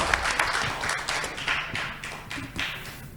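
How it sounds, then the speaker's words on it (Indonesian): An audience applauds the main speaker at a city development seminar in Tasikmalaya, with fairly faint, uneven clapping from a modest crowd that pulses and thins over a few seconds. "kasih dulu tepuk tangan yang meriah untuk narasumber utama kita"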